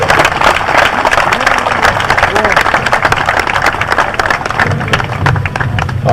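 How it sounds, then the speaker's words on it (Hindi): Loud, steady applause honoring Dr. Goyanka at a ceremony recognizing doctors for treating Corona patients, dense clapping from a crowd throughout with voices mixed in. "जोरदार तालियां।"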